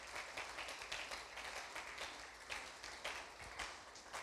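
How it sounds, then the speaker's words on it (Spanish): A church congregation applauds the Lord during a Wednesday service, a dense, steady wash of many hands clapping across the whole moment, fairly faint and without a break. "dele aplauso al Señor"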